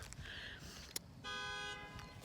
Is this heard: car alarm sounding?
yes